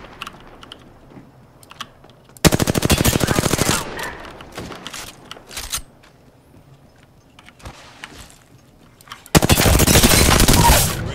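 Gunfire in a shooter video game: two loud, sustained rapid-fire bursts, one early and one at the end, separated by quieter game ambience with scattered clicks and no talking.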